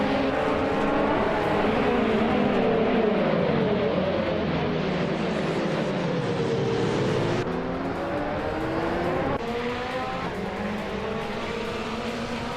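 A 2013 Hyundai Genesis Coupe GT4 race car engine in a racing video game drones loudly and continuously, its pitch rising and falling through gear changes with steady revving and no pauses.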